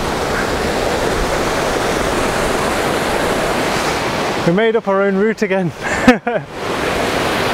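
Rushing river water near Ben Nevis in Scotland makes a steady, loud broadband roar that fills the whole stretch, and a person speaks briefly over it midway.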